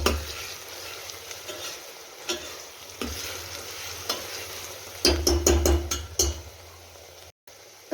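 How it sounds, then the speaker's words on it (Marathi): Onion frying in oil with salt for mutton masala, a steady moderate sizzle under repeated scraping strokes of a spatula, with a quick burst of knocks and clinks toward the end and a brief gap near the close. "छान असं फिरवून घेऊ आणि 5 ते 6 मिनिट हा कांदा फ्राय करून घेऊ"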